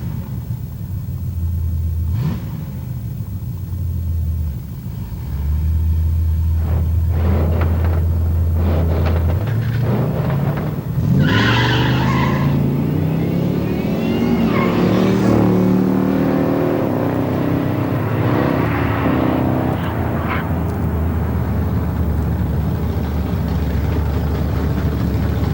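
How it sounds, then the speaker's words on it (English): A Dodge Challenger with a 360 cubic inch V8 rumbles at a drag racing burnout box, a loud low engine drone that climbs into revving surges and tire-spinning roar, then holds a heavy sustained growl. "little Dodge Challenger with 360 cubic inches wedged in there"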